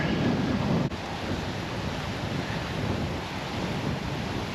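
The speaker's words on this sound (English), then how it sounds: "The wind is starting to pick back up again" Wind picking back up in The Villages, Florida, after Hurricane Debby. A steady, fairly quiet rush of gusting wind against the microphone plays alone for the whole stretch.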